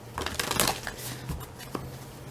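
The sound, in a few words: shuffling oracle cards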